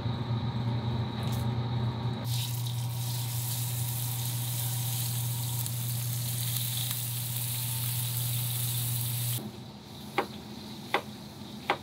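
Strip steak sizzles loudly on a hot cooking surface for most of the stretch, a dense steady hiss, then drops off to quieter kitchen ambience with a few sharp ticks and taps.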